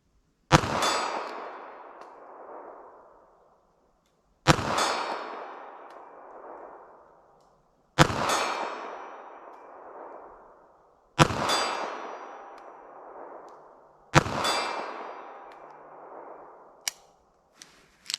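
Five .380 ACP Magtech jacketed hollow point rounds fired at steel targets, each a sharp, loud crack with a long ringing decay, spaced about three to four seconds apart, followed by a few small metallic clicks at the end.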